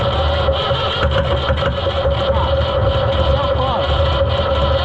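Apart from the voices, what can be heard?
Oliver 1250-A tractor engine sputtering, not firing on all cylinders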